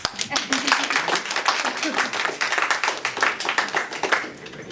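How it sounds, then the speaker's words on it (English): An audience claps after a presentation at a teachers' session on emergent readers, a brisk round of moderately loud applause from a small group. Faint voices can be heard underneath. "It's okay to clap."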